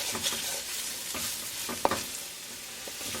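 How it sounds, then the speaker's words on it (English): Spices sizzle in a hot oil tadka with turmeric over medium gas, a soft steady frying hiss punctuated by a handful of spatula scrapes and taps against the pan, close and without voices. "Cook the spices along with tadka for half minute."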